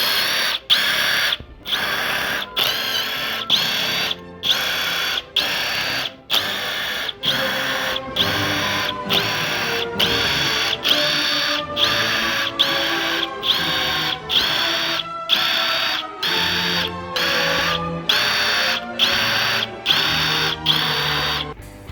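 Pneumatic impact gun zapping out bolts on a rare blown Corvette ZR-1 engine during teardown, heard as a long series of loud, close rattling bursts separated by brief pauses.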